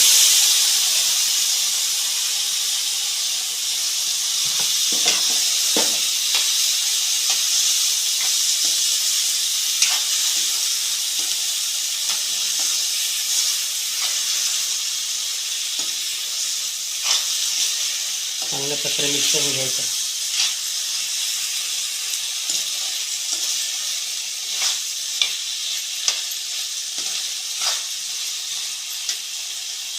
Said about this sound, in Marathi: चांगला परतून घ्यायचा चांगला परतून घ्यायचा त्यामध्ये काजू टाकतो